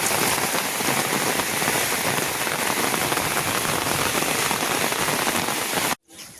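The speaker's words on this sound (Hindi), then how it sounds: "क्या है, आज बहुत बारिश हुई है?" Heavy unseasonal rain pours steadily onto surfaces in a farming area, a dense, even hiss that continues alone and then cuts off abruptly near the end.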